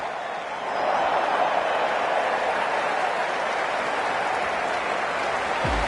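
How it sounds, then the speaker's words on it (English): Crowd applause in a cricket video game, a dense, steady wash of clapping and cheering that swells in after a moment and holds loud and unbroken to the end. "they'll receive a warm reception from the crowd"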